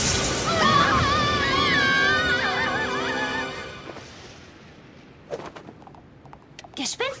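A cartoon headless horse gives a loud, shrill neigh lasting several seconds, its whinny wavering and trailing off, followed by a few faint clip-clops and scattered thuds in the quieter stretch.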